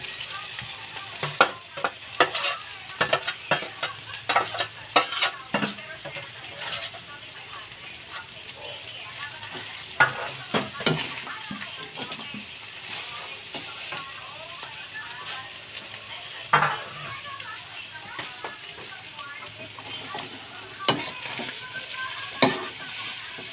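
Chicken pieces sizzle and fry in a pan for chicken pastil while a utensil stirs them, giving repeated scraping clinks and bursts over a steady crackle, with occasional voices in the background.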